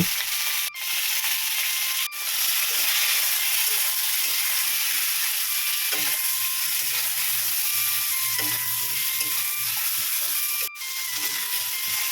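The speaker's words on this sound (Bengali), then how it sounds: "এবারে বেগুনগুলোকে লবণ আর হলুদ দিয়ে ভালো করে ভেজে নেব" Continuous loud sizzling of whole eggplants with salt and turmeric frying in hot oil, with a few sharp clicks and scraping sounds from the pan.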